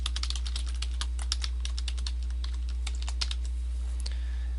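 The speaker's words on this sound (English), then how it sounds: "under Advanced Options, you can type in your website name." Computer keyboard typed on at a steady quick pace, dense light key clicks close up with a constant low hum underneath.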